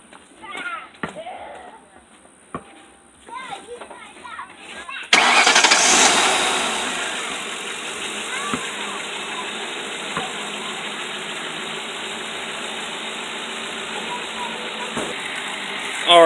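A Ford Crown Victoria's engine cranks and catches after an oil change, bursting loudly to life and then settling into a steady idle; someone talks briefly before the start.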